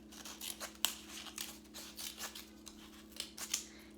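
Scissors cutting a spiral out of cardboard: a quiet, steady series of crisp snips, roughly two per second, close up with no talking.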